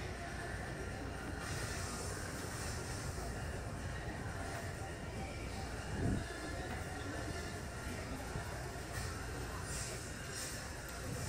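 Trains and station ambience at Pennsylvania Station in New York: a steady low rumble of rail traffic and hall noise with a brief thump midway, continuous and moderately distant.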